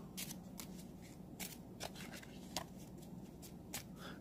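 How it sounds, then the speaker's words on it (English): A deck of cards for the zombie-themed tabletop game Zombie Doctor being shuffled by hand, giving quiet, repeated riffling bursts spaced through the clip with no talking. "you're going to shuffle that up."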